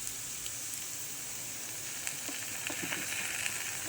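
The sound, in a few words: sauce poured into sizzling pan while cooking chow mein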